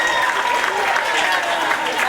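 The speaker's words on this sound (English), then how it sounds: "Give yourselves a round of applause." Audience applause after a battle of the bands night, a dense, steady wash of clapping from a crowd filling the whole stretch without a break, with some voices mixed in.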